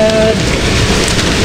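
Steady rain pours down in a dense, loud hiss that stays even throughout, with no pauses or distinct drops standing out.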